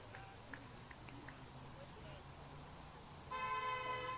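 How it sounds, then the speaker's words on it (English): At a youth baseball game, a car horn lets out a sustained, fairly loud blast near the end, over steady outdoor field noise and distant voices. "There's an idiot who just thinks they should honk at a baseball game."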